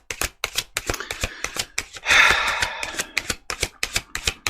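Tarot cards are shuffled close up in a rapid series of crisp snaps and riffles, with one longer flurry of cascading cards midway before the sharp taps resume.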